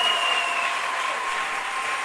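Congregation in a French-speaking Pentecostal church applauding, a steady dense wash of clapping sustained and fairly even across the short stretch.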